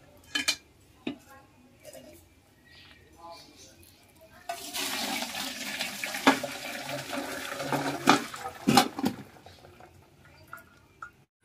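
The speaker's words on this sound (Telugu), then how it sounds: "వీటిని మనం ఇప్పుడు చిల్లులు బేసిల్లో వేసుకుని వడగొట్టేసుకోవాలి." Water pours and splashes as boiled drumstick pieces are tipped into a perforated colander to drain for a Telugu tamarind curry, a sustained watery rush with clinks of a metal vessel, fairly close and loud, no talking.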